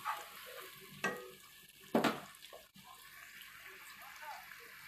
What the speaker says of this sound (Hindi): अब इसे थोड़ा सा ब्राउन करना है, चलाते रहना है ताकि प्याज जले नहीं।